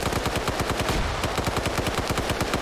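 Rapid automatic gunfire in a military shooter video game, a dense burst of sharp evenly spaced shots firing close and loud without pause.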